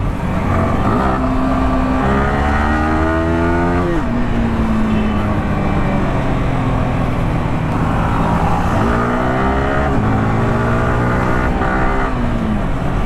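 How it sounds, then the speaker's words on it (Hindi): Yamaha R15 motorcycle accelerating hard on a city street, engine pitch climbing through several gear shifts and dropping between them, loud and close, with traffic sounds behind it. "बाइक को थोड़ी भगा कर देखते हैं"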